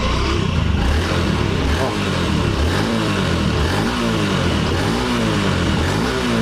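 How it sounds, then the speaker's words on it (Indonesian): Motorcycle engine revved up as the throttle opens, a loud close rising and falling drone in repeated surges, with a man's brief exclamation over it. "Sekarang kita coba gas."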